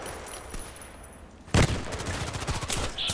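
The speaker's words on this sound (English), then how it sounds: "Blind shooting." Bursts of gunfire in the online shooter Contract Wars, a loud volley starting midway and continuing as rapid repeated shots after a quieter stretch of game ambience.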